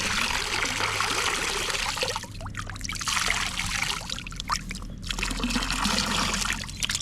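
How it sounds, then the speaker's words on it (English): Water pours and trickles as it is tipped out of a fishing bait trap holding live mullet, a close, continuous splashing with two brief pauses. "do you want to just tip a bit of water out?"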